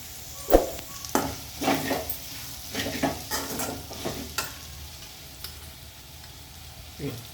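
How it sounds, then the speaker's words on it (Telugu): Gongura leaves fry in a pan while a spoon stirs them, giving soft sizzling under a series of scraping, knocking strokes against the metal, fairly quiet and close. "ఇట్లా మంచిగా ఫ్రై అయింది చూడండి"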